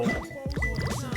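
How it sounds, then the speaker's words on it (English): Water drips inside a video game, a quick run of wet, gurgling drops with bright, pitch-sliding plinks in close succession, with no voices over it. "That's the water dripping in the game."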